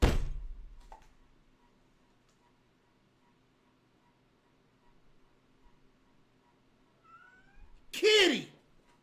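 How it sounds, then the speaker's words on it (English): A short meow rises near the end, loud and close after mostly quiet background with a thump at the start. "Kitty."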